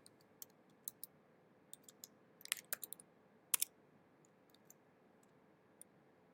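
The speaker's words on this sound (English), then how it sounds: "Let's go ahead and type in the print statement." Sparse, quiet clicks of a computer keyboard as a Python print statement is typed, irregular single taps and short bursts over a faint steady hum, no voices.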